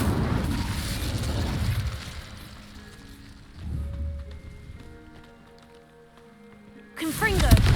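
A spell cast in the video game Hogwarts Legacy: a loud crackling, bursting blast for about two seconds that fades into lingering tonal shimmer, then a second sharp burst near the end.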